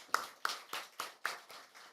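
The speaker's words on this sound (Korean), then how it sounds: "크게 박수 한번 할까요?" Faint, evenly spaced handclaps in a church service, about seven sharp claps in quick rhythm, sparse and quiet rather than a full burst of congregational applause.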